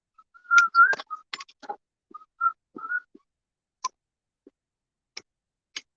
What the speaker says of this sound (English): That whistle was brought to you by the mouth of Web City